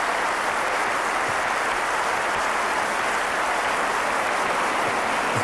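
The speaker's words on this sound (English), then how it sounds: "Give her a round of applause for that," Sustained audience applause at the Kennedy Center Mark Twain Prize for American Humor ceremony, a dense, even wash of clapping from a large crowd that holds steady throughout with no talk over it.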